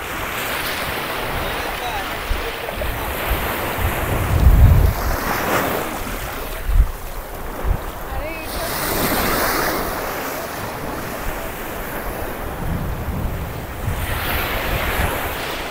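Sea waves rolling onto a white-sand beach on Maafushi island in the Maldives, a steady surf wash with wind buffeting the microphone, moderately near.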